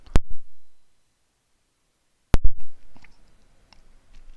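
A computer mouse gives two sharp, isolated clicks about two seconds apart, each followed by a faint rustle in an otherwise quiet room.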